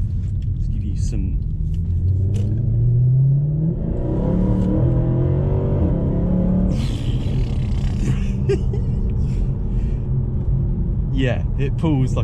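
A 2012 Mercedes C63 AMG W204 accelerating hard, its engine building from a deep rumble into a loud, rising roar as it pulls continuously, close and prominent throughout.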